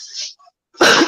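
A woman's sneeze: a short breathy intake, a pause, then a loud, sharp burst of breath close by.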